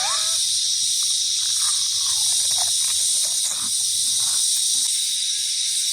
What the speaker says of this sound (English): The cicadas are that loud